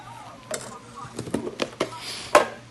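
A spoon stirring a pinch of nutmeg into lasagne sauce for a garlic lasagne, giving a few soft scrapes and clinks against the pot over a low kitchen hum, close and fairly quiet.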